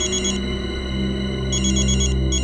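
A telephone ringing in a CID television drama scene, a steady electronic ringtone pattern repeating over a low background hum, loud and close with no talking.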